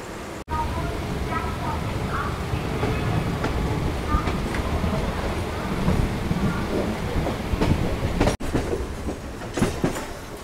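Suburban train near Dum Dum running along the tracks, with a steady close rumble, rhythmic clickety-clack and occasional wheel squeal lasting throughout, and faint voices in the background.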